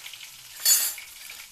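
Chopped green chillies and turmeric hit hot oil in a pan for a cabbage and potato dish, giving one short, bright hissing burst of sizzle over a soft background fry, close and without speech.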